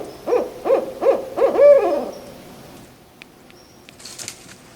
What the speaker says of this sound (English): I'm gonna sign off to the calls of this barred owl